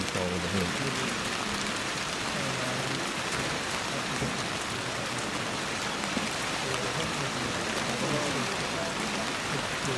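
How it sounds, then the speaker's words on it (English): Heavy rain falls straight down during an outdoor croquet game, a dense, steady hiss of drops with no letup, and a voice is heard faintly under it. "it's really raining now. Luckily the rain's just dropping straight down."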